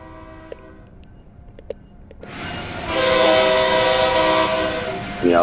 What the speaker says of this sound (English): On the outside, you hear the horn much better.